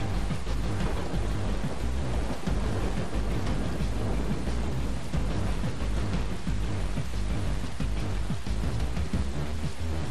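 Heavy, steady rain pours down in a dark jungle thunderstorm in the Far Cry 3 shooter, a dense hiss with low rumbling thunder filling the whole stretch and no voices.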